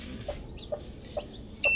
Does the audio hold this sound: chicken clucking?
yes